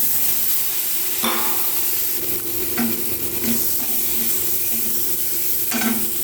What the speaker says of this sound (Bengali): আমি ডিমগুলোকে কড়াইতে দিয়ে ভেজে নেব